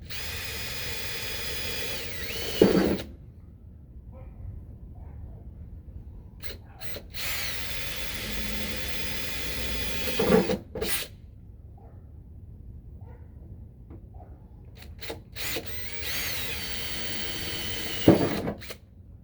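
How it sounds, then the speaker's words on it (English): A power drill bores holes in a custom car emblem in three separate bursts of several seconds each, a loud whining hum with a pitch shift as each one bites, separated by quiet pauses with small handling taps. "let's see how well I can drill these."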